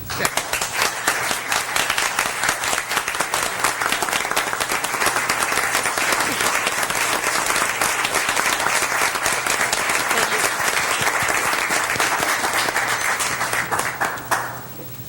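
Sustained applause from a city commission meeting room full of people, dense and steady clapping that carries on for many seconds before tapering off at the end.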